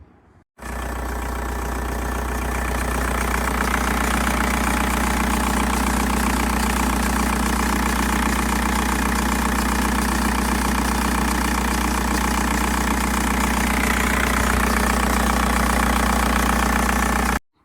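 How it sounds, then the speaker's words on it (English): A Skoda Octavia 1.9 TDI diesel engine idles steadily and continuously at close range, a deep even rumble with a faint ticking texture, no voices. "The engine still runs good"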